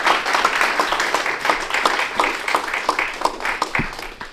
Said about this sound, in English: So, ladies and gentlemen, let's give a round of applause for Lydell Rhodes.